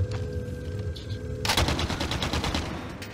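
Rapid automatic fire from a new light machine gun in Call of Duty Warzone, a loud sustained burst of shots that starts abruptly about midway and keeps rattling to the end.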